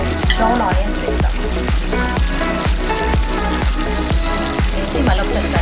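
A pot of Hyderabadi mutton dum biryani boils and sizzles vigorously on the stove, giving a loud, close, continuous bubbling crackle with a steady pulsing rhythm throughout.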